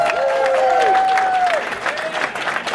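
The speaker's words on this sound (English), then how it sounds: "let's give them another round of applause" Audience applause at a chamber of commerce civic gathering, a steady wash of many hands clapping with a faint tonal hum or feedback ringing over it, tapering slightly toward the end.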